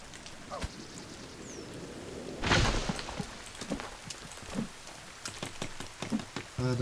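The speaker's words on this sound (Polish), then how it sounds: "Pada deszcz" Rain falling in the survival video game The Forest, a soft continuous patter with scattered drop ticks and one brief louder burst partway through, under faint background music.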